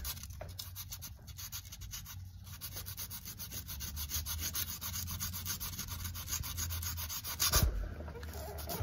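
A metal surface is sanded back to bare original metal with steady, rhythmic back-and-forth rubbing strokes up close. The strokes grow slightly louder near the end, and no one speaks.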